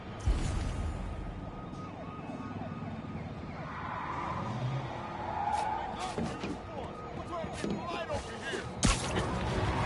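A vehicle chase in the Spider-Man PS4 game: sirens wail over a dense roar of car engines and tyre noise, with game voices talking throughout and sharp impacts punctuating the busy mix.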